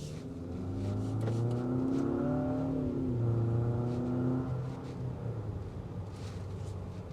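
A 2025 Infiniti QX60 Luxe Black Edition third-row luxury SUV accelerates from inside the cabin, its engine note rising smoothly through a gear change and then settling into a steady, moderate drone.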